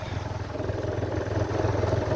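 Motorcycle engine running while riding a hill road, a steady mid-pitched throb with a pulsing rhythm, close and continuous for a couple of seconds.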